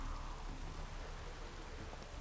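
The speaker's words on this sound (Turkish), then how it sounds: "Yağmur başlamış." Steady rain falling in The Witcher 3: Wild Hunt, a dense even hiss of drops with low rumble underneath, continuous and moderately loud with no voices.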